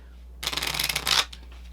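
Stiff playing cards shuffled by hand, a short loud riffle of rapid flicks lasting under a second, close to the microphone, followed by a few faint clicks.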